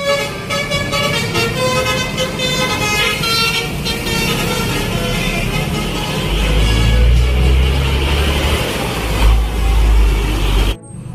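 A toy telolet bus plays a loud, continuous engine-and-horn sound effect with melodic tooting tones on top, getting deeper and heavier in its second half before stopping suddenly.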